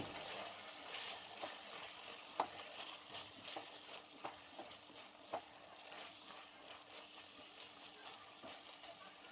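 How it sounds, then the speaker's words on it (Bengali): Quail meat frying in oil for a roast, with a low, steady sizzle and scattered sharp pops and crackles throughout, heard faintly with no talking. "মাংসটা ভাজা ভাজা হয়ে যখন এমন তেল বের হয়ে আসবে"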